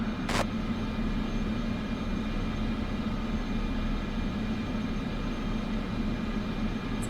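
Cessna aircraft engine running steadily on the runway in Microsoft Flight Simulator 2024, a constant droning hum with a steady propeller tone, close and even in loudness, with a brief click near the start and no talking.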